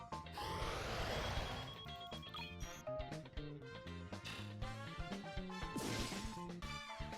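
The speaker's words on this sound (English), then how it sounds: "And then Zaborg attacks Giant Orc." A monster attack in the video game Yu-Gi-Oh! GX Tag Force 2 crashes over busy music, with a loud smash near the start and another impact sweep toward the end.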